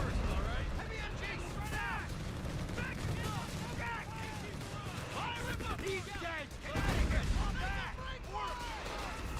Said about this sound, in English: I've done a double barrage here to try and get the decoy on this